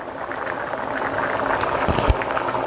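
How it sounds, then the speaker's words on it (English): Valache birde, a vegan bean curry, boiling rapidly in a covered pot, a dense steady bubbling and sputtering heard close up, with a few sharper pops. "This is boiling rapidly."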